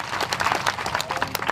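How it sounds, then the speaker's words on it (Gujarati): An audience at a political rally applauds journalists, a short burst of dense, lively clapping at moderate distance. "તમામ પત્રકાર મિત્રોને તાળીઓથી વધાવી"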